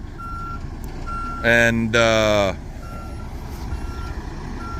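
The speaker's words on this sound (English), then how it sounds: "That front trailer, it's a side dump. We're gonna get him dump it right here." A gravel truck pulling a side dump trailer backs up with loud, regular reversing beeps and a diesel engine rumbling steadily underneath, with a brief spoken word.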